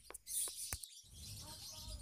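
Lovebirds in a colony cage chirping and tweeting in quick, scattered calls at moderate distance, with faint background murmur.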